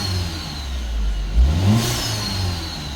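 BMW F20 hatchback swapped with a Toyota 1NZ-FE engine, automatic, in Jamaica, idles with a steady low hum, then gives a quick sharp rev that rises and settles back to idle, heard close and alone.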